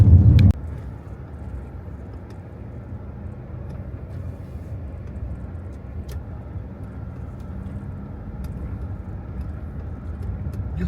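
A front-wheel drive SUV rolls along a drivable dirt road, heard from inside as a steady low engine and tyre rumble that holds for the whole stretch after a brief louder bump at the start, with no voices.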